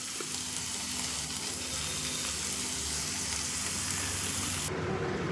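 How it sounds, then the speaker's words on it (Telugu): Nalleru (veldt grape) and ridge gourd peels frying in a pan, a dense close sizzle that stays loud and steady throughout and cuts off sharply in its high hiss near the end, with no talking. "చూసారా ఎంత బాగా వేగాలన్నమాట బాగా వేగిపోయినాయి కదా"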